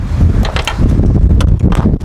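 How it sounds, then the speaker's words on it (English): Wind buffeting a microphone outdoors beside a broken-down BMW, producing a loud, continuous low rumble with irregular gusty bursts. "Very windy."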